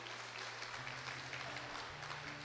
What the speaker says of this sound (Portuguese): Então beleza, então vamos aplaudir.